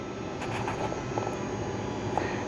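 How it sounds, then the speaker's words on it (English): A drum sander works an epoxy river board, giving a steady broadband roar with faint scraping bursts. The sound is constant and moderately close, with no voices. "So we have to go the very painful long process of putting this through the drum sander."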